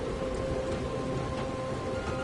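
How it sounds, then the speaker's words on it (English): Steady rain falling in the zombie survival game Dying Light The Following, a dense continuous hiss at moderate level with no talk over it. "Now it's raining."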